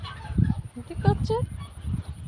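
Several same-sized chickens give a quick run of short, nasal clucks and squawks at close range over about two seconds.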